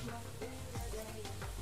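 Spices and salt sizzling and being stirred in a frying pan in the cooking game Venba, a short, close, steady crackling fry with a few scraping strokes.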